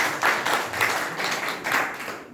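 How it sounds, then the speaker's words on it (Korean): An audience at a Korean public talk claps for an education official, a few seconds of rhythmic, moderately loud handclaps that thin out toward the end. "강경 교육관님께 박수 부탁드립니다."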